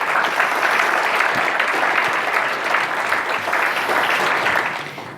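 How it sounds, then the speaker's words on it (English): Conference audience at the NetHope 2017 gathering breaks into sustained applause, a thick, even wash of many hands clapping for several seconds before easing off slightly at the end. "So I hope everybody will give yourselves a round of applause for the work that you've done."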